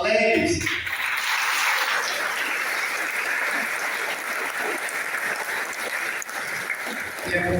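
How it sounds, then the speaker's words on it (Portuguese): A church congregation breaks into sustained applause, dense clapping from many hands that starts after a brief moment of voices and continues evenly to the end, filling the room. "manifestamos nossa alegria com muita salva de palmas"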